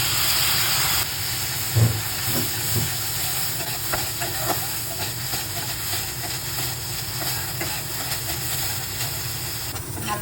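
Butter and ginger garlic paste sizzle in a hot pan with a steady, close hiss throughout, with a few soft clinks and stirring knocks near the start.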